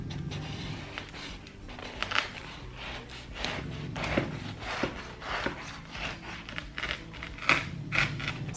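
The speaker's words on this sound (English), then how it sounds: "so I'm gonna cut into it now." A knife cutting into crispy air-fried burger pastry, with a run of crunchy crackling cuts and scrapes, close and fairly quiet, no talk.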